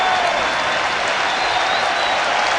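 Sustained cheering and clapping from a Philadelphia baseball crowd on its feet during a St. Louis at Philadelphia game, a broad, loud roar that holds steady from start to finish.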